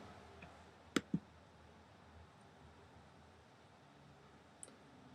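Two quick, sharp mouse clicks sound close together, followed by a faint third click later, against quiet room hiss.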